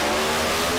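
A drag racing car in a Top Gun class launches hard down the track, a loud, dense engine roar filling the short moment with no voices.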